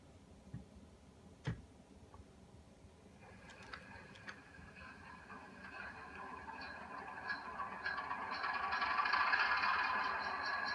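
A Rapido FP9A Grey Ghost model locomotive's engine sound starting up: a few faint ticks, then a low diesel hum that swells steadily and grows louder over several seconds.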